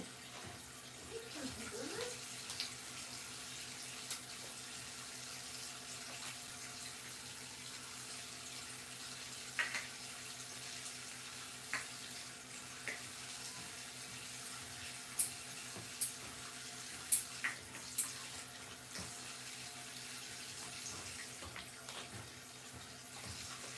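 A kitchen tap runs steadily at a moderate distance for the whole stretch, with a few faint clinks and knocks on top and a brief bird-like squawk near the start.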